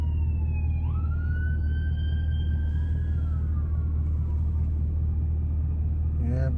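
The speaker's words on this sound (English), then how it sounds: "let's let them go by so the sirens don't drown me out." Fire truck sirens wail past, with long rising and falling tones over a heavy low engine rumble, loud and close, and a brief horn-like burst near the end.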